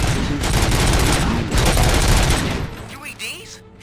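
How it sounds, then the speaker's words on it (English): Dense, loud gunfire in the video game Robocop Rogue City: a rapid burst of overlapping shots and booms that fades out after about three seconds into quieter rumbling and faint voices. "Gunshots? What's going on?"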